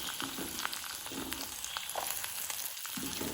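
Finely chopped ginger and garlic fry in hot oil in a pan as the base for a village-style prawn roast. A continuous, even sizzle crackles close by, with a few light stirring sounds.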